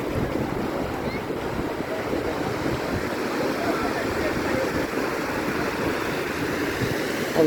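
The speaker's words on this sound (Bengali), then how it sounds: "কক্সবাজার সমুদ্র সৈকত।" Sea waves rolling onto the beach at Cox's Bazar, a continuous low rushing roar mixed with buffeting wind noise on the microphone, steady and alone throughout.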